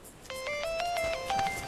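A mobile phone ringtone chimes in a movie scene, a short bright melodic phrase of a few rising and falling electronic tones, clear and fairly close with no talk over it.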